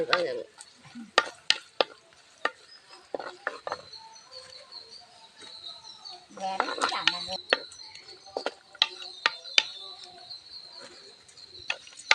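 Raisins frying in a pan for milk payasam, after cashews have been roasted, with a soft continuous sizzle under sharp, irregular taps and scrapes of a spoon stirring against the pan.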